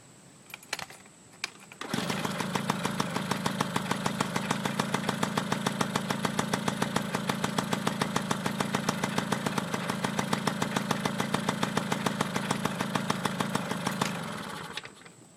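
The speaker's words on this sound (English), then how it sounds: "Make sure it idles right." A Yamaha QT50 moped engine fitted with an SHA carburetor starts and settles into a steady, rapid two-stroke idle that runs loud and even for about twelve seconds before cutting off.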